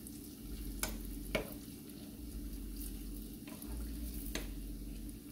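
Cinnamon donuts frying in hot oil in a pan, a steady close sizzle with a low rumble, broken by a few brief sharp clicks of a small spoon as oil is spooned over them.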